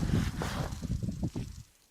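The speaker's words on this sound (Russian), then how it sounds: "Ветер сильный подул, снег пошел." Strong wind buffets the microphone in rough, gusty rumbles, fading away near the end, outdoors while snow falls.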